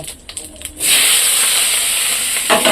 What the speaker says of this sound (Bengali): এখন আমি একটুখানি জিরে দিয়ে দেব তারপরে এই পেঁয়াজগুলো দিয়ে দেব